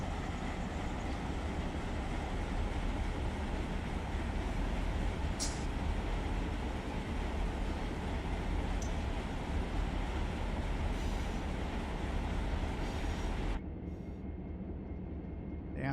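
A locomotive idles and runs in notch 1 in the Run 8 train simulator game, a steady low diesel rumble that drops abruptly near the end, with faint brief clicks above it.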